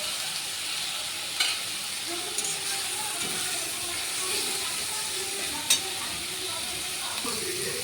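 Onions sizzle steadily in a hot pan with ginger paste and chopped tomato, a constant frying hiss and occasional clinks of a stirring spoon nearby.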